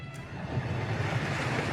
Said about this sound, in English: The wind stirs and gusts, and the sails go taut and full.